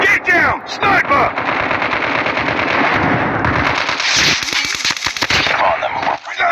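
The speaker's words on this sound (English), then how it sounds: "There's so many shots." Dense, loud shotgun fire in a multiplayer shooter video game: rapid overlapping blasts and bursts that fill the whole stretch, with brief gaps and muffled voices mixed in.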